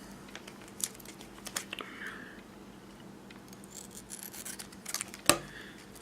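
Scissors trim a graphite sheet for a homemade sugar-carbon battery, a series of faint, close snips and crinkles scattered over a quiet background.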